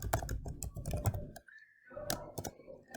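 Code being typed on a computer keyboard, a dense run of clicking keystrokes, then a short pause and a few more taps, faint and close.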